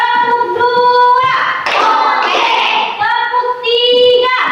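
A classroom of pupils claps hands in a counting clap game, a burst of clapping set between chanted voices that lead in and follow.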